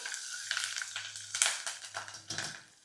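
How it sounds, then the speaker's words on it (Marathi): Whole green chillies, cut into large pieces, sautéed in a hot oil tempering (fodni) for Maharashtrian alu leaf curry, crackling and sizzling with soft stirring scrapes in close, uneven bursts. "थोडीशी हिरवी मिरची अशी अख्खी घालते अख्खी म्हणजे मोठे तुकडे करून घेतलेली परतूया याला"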